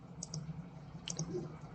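A computer mouse gives a couple of quick, faint clicks, close and soft against a low steady background hum.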